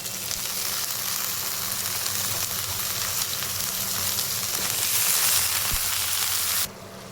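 Chopped vegetables drop into hot oil with dried loitta fish and sizzle loudly in a steady, dense crackle that swells slightly before abruptly quietening near the end.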